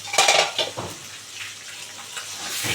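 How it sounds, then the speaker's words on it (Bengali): Tangra fish frying in oil in a covered pan, with sharp crackling pops and sizzling spatter loud at the start, then easing into a steadier, quieter sizzle with occasional pops, close and without talk. "ফাট ফাট করে ফাটছে খুলে দেখি ঢাকা হলো না প্রচণ্ড ফাটছে"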